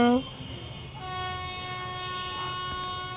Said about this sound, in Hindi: यहाँ कोई ट्रेन आ रही है